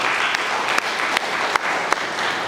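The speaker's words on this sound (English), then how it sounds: "Please give them a round of applause." Applause from an audience at an induction ceremony for the first graduating class of public health degree holders at the African Institute of Public Health Profession, a steady clapping wash with a few sharper claps standing out.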